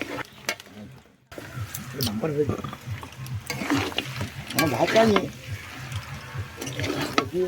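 Duck curry meat being stirred in a pan with fried potatoes going in, a steady close sizzle with scraping spoon clatter throughout, a brief near-silent gap early on, faint voices at times.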